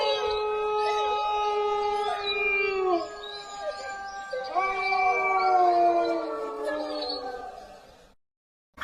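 Howling in a story sound effect rings out in long, rising and falling wails that overlap for several seconds, clear and steady, then stops abruptly into silence.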